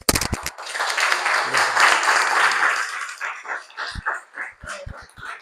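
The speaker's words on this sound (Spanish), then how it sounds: "aplaudimos primero" Audience applause closes a psychoanalysis seminar meeting: a dense wash of clapping swells for about three seconds, then thins into scattered last claps and small noises.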